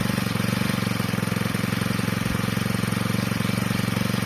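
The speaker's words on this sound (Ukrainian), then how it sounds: "Буду поступово обкатувати цю мотокосу." Small two-stroke engine of a ProCraft T5600/S petrol brush cutter running steadily close by while being broken in, a fast, even buzzing putter with no speech.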